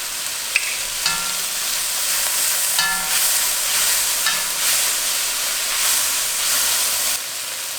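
Two tablespoons of minced garlic sizzle steadily in a pot for a beef stew from chuck roast, with a few sharp stirring scrapes and clicks over a continuous frying hiss, close and moderately loud, no voices.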